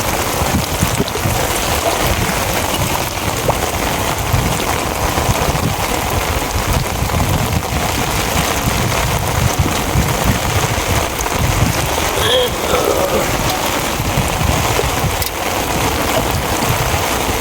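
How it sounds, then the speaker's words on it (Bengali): Heavy monsoon rain pouring steadily over a village wetland, a dense continuous hiss of drops hitting surfaces, close and loud with no voices. "বৃষ্টি প্রচুর বৃষ্টি"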